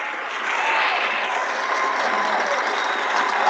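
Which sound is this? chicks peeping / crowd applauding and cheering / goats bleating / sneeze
crowd applauding and cheering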